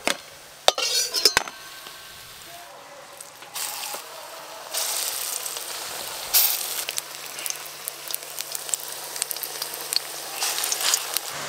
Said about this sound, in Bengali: ভালো করে ভেজে নিয়েছি, তুলে নেব।